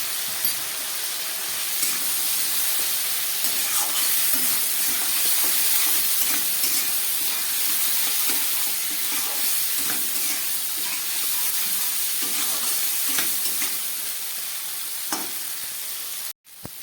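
Spice paste fries in a pan with a splash of water and chilli powder for a light rohu fish curry, an even, hissing sizzle with scattered stirring scrapes running steadily until a sudden stop.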